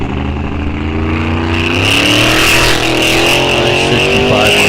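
A 1965 Ford Mustang drag racing at Rock Falls Raceway roars loud and close, engine revving and climbing steadily in pitch as it accelerates down the strip, no talking.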